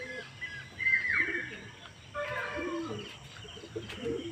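Pet pigeons on a summer morning, soft cooing calls and fluttering wingbeats at moderate distance, faint and intermittent over quiet outdoor background.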